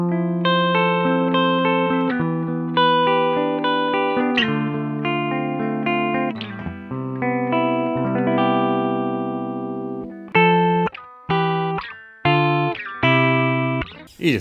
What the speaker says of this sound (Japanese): 優しく弾いたらクリーンだけど、強く弾いたら歪むみたいな